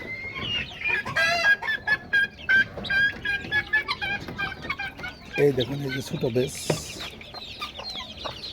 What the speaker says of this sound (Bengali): দেখুন এই যে মুরগিগুলা কীভাবে খাইতেছে।